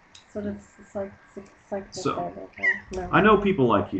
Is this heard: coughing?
no